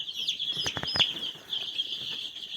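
Desi village chicks chirp in a continuous high peeping chorus close by while being caught for vaccination, with a few quick rustling taps and scuffles in the middle.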